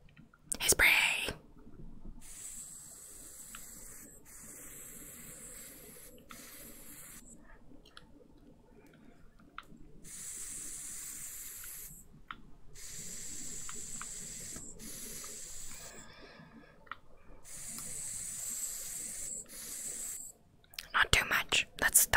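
Soft short bursts of hissing spray from a spray bottle, repeated several times with pauses between, quiet and close amid a gentle late-night whispering setting.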